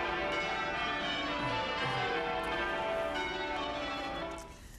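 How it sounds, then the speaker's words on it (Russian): Westminster Abbey church bells ring out to mark a royal birth, a dense wash of overlapping peals sounding steadily and fairly loud, with no voices, before fading toward the end. "а также звонили колокола Вестминстерского аббатства"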